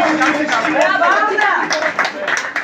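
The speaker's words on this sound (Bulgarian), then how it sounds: "Бурни аплодисменти за тях." Applause and cheering from a crowd for performers taking the stage at an event in Kiten. Dense, steady clapping mixes with chatter while a voice speaks over it.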